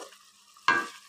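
Magur catfish cooking in a pan gives a sudden loud sizzle that bursts up after a quiet moment and slowly fades, with no talking.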